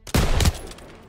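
A single sharp gunshot in Call of Duty: WW2, a loud close report about a tenth of a second in, followed by a short burst and a decaying battlefield rumble.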